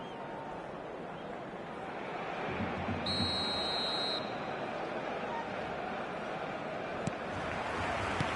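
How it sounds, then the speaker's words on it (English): In a football video game, a referee's whistle sounds one steady, shrill blast of about a second to start the second half, above a constant roar of stadium crowd noise. "There's the whistle then to start the second half."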